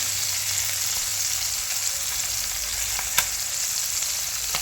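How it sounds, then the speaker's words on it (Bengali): Small fish cooking with raw tomato and potato in a village-style pan, pushed around with a wooden ladle: an even, continuous sizzle and hiss throughout, with one short knock of the ladle partway through. No speech. "একটু কাঠের হাতা দিয়ে একটু নাড়িয়ে নাড়িয়ে সরিয়ে সরিয়ে দিচ্ছি যাতে একে অপরের সঙ্গে জড়িয়ে না যায়"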